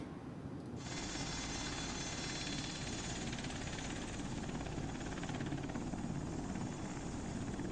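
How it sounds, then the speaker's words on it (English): A helicopter's rotor and engine drone steady and loud as it comes in to land, a constant broadband roar with a faint rhythmic chop, no voices. "here's a video of the helicopter coming in and landing"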